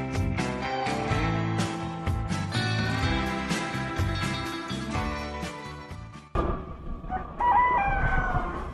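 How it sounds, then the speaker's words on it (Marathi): A rooster crowing near a rural temple area in Gaganbawda, Kolhapur, in a long, loud call held for several seconds, then followed by softer clucking and quieter sounds. "कोंबड्यानं आत्ता बांध दिलेले आहे."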